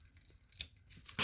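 An adhesive-sealed package is torn open in several quick rips, the longest and loudest tearing burst coming at the end, close by with no talk.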